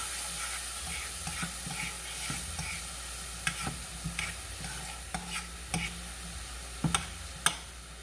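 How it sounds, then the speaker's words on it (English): Red onion sautés in a pan with a soft steady sizzle. Intermittent spatula taps and scrapes stand out above it, sharper and more frequent toward the end, and no one speaks. "I'm just gonna saute that up for a little bit. And I'm gonna stir it up."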